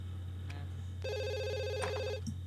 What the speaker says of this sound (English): Come on, Scott, answer the phone.